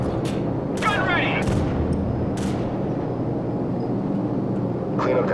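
AC-130 gunship cannons in Call of Duty 4: Modern Warfare, a dense continuous roar of distant heavy fire and rumbling blasts with a few sharper bursts, radio-style voices talking over it.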